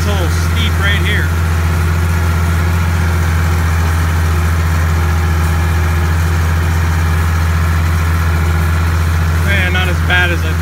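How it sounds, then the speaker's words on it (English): A steady, low tractor engine drones throughout, climbing a steep hillside field, running continuously with a deep rumble; faint chirping sounds briefly near the start and end. "this tractor, I don't mind the hills as much"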